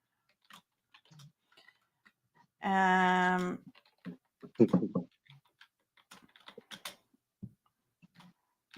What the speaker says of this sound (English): I'm typing in something.